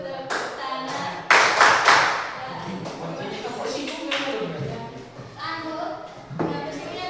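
Children chant "tepuk pundak, tepuk siku, tepuk tangan" while clapping hands and tapping shoulders and elbows in a rhythmic classroom game, with bursts of claps standing out over the voices.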